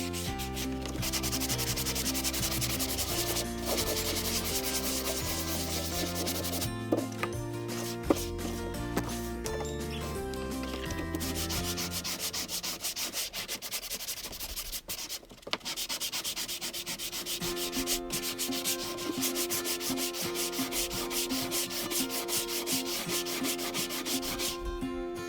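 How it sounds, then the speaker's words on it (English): Sandpaper rubbed back and forth along the edges and paper surface of an inexpensive Dollar Tree craft item, a steady scratchy rasping that runs continuously through the whole stretch, fairly close and unbroken, with no talking. "Now what I'm doing is just sanding down the edges, trying to make it smoother, and sanding down some of this paper."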